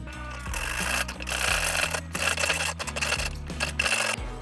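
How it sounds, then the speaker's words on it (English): A pipe cutter cuts a front fork tube on a 2019 Yamaha MT-07 motorcycle. Close metallic ringing and squealing tones shift in pitch with each turn of the cutter, with no voices. "I'm going to take our trusty pipe cutter here and we're going to go ahead and cut this down"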